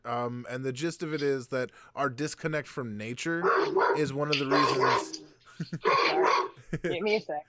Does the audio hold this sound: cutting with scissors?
no